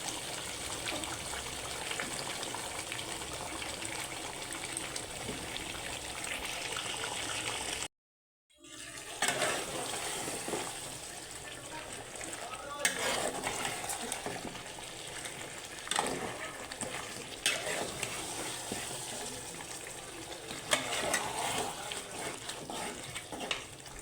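Water pours steadily into a pot of beef and potatoes for a long stretch, a continuous gushing splash broken by a brief gap, with faint clinks and kitchen noise.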